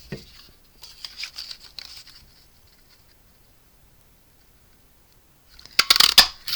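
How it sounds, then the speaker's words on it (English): Paper being torn off as leftover is removed while making a Stampin' Up potted tulips card: a short run of crisp ripping and rustling, a long quiet pause, then a louder, sharper burst of tearing near the end, with no talk. "I do have to tear off, rip off, cut off the extra left over"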